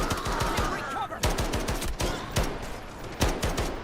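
Gunfire in the Delta Force video game, with repeated sharp bursts and single shots in an uneven rhythm, loud and close, mixed with a player speaking.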